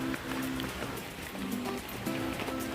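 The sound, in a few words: rain falling at Coorg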